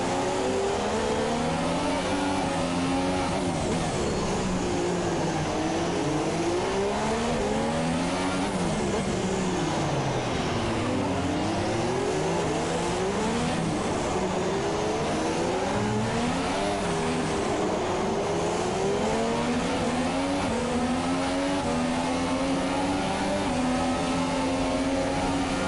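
Formula 2 race cars scream around the Monaco street circuit, engines rising and falling in pitch through gear changes with a continuous loud wail as several cars pass close by.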